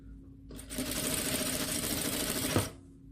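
A sewing machine runs a seam in one continuous burst of about two seconds, a fast, even mechanical whir close by, starting and stopping abruptly.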